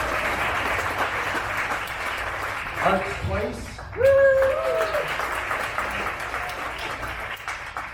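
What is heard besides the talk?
audience applause at a candidates forum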